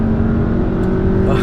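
A 2017 VW Jetta GLI accelerates at low speed, its engine giving a loud, steady droning hum with a firm low tone heard from close by.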